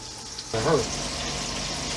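Sand bass pieces drop into hot oil to fry, a sudden burst of loud bubbling sizzle that settles into a steady close frying hiss.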